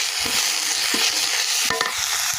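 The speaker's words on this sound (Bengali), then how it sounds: "এবার আমি মশলাগুলো একটু ভেজে নিব" Loud, dense sizzling of spices frying in a pan for fried taro, with a brief clatter of a utensil partway through; no talking.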